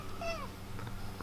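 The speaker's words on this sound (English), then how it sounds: "This is the source of the meows" A house cat meows once, close and fairly loud, its call rising and then falling, followed by a few soft, faint sounds.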